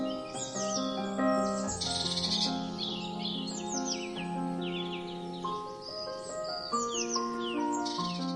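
Many birds call and sing together at a desert rift oasis, a dense chorus of chirps, caws and warbling notes layered over a steady tonal bed, moderately loud and continuous with no talk.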